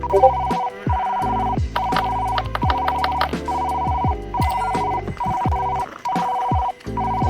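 A telephone rings loudly and insistently at an office desk, repeated electronic ring bursts in a steady pattern layered with a musical jingle, with no talking.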